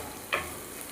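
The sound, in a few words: sautéing chopped ripe tomatoes in pan for fish curry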